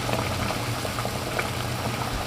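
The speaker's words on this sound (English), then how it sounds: "I'm gonna turn my heat down here so it just maintains that boil" Water with baking soda keeps a steady rolling boil in a pot on a stove, turned down to simmer before potatoes go in: a constant close bubbling hiss with no talk.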